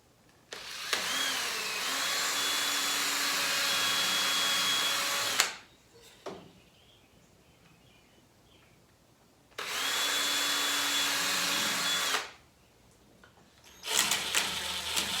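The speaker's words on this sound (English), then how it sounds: "I'm going to take this piece away and then finish drilling the hole deeper." A power drill bores a hole deeper into trellis wood in two separate runs, each a steady whine lasting a few seconds. A brief clatter of handling follows, with near silence between the runs.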